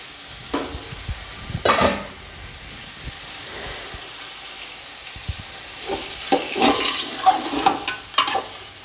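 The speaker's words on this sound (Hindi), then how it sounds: "पुलाव की बोटियों को थोड़ी सी तेज़ आंच करके भूनेंगे" Beef pieces for pulao frying in a pot over high heat, a soft steady sizzle with occasional louder stirring scrapes and clatters, no talk.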